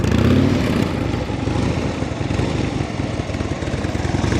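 Motorcycle engine at low, steady revs during an advanced slow-speed riding practice drill, a continuous mid-loud drone with slight throttle variation, running without pause.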